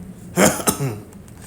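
A man gives a short throat-clearing cough, two quick rough bursts close to the listener, with faint background quiet around them.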